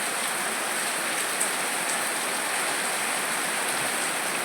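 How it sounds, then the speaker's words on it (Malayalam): Heavy rain pours down in a dense, even, hissing roar, steady and loud throughout with no pauses and no voices. "നല്ല മഴ കേട്ടോ"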